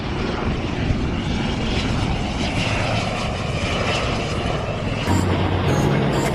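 Helicopter with a hingeless rotor flying a display at the Aero India airshow in Bengaluru: a steady, loud, broad engine and rotor roar throughout, with a brief tonal shift near the end.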